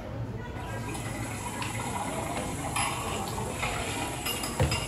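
Water splashes and gurgles as it is poured into a container, with occasional knocks of a vessel and some faint background activity.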